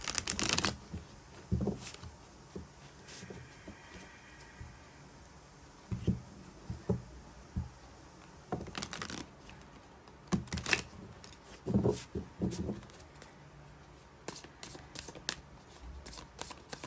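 Tarot cards shuffled by hand from a second deck, with repeated riffling and snapping bursts and soft card slides, close up and spread unevenly across a long stretch of quiet room sound.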